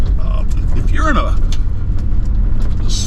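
Ford E250 van on 10-ply tires jolting along a rough, rocky road, a steady loud low rumble of engine and suspension with rattles and clunks throughout, with voices heard over it.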